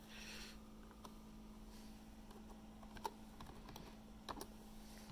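Fingers typing a password on a computer keyboard, a quiet run of close, irregular key clicks with a couple of sharper taps, over a steady low electrical hum.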